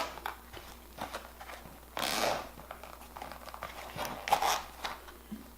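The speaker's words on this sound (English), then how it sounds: "Got two zippers here." Zippers being pulled open on a fire kit pouch from a bug-out bag: two longer rasping zips, the first around the two-second mark and the second near four seconds, among soft rustling and handling noise, with no speech.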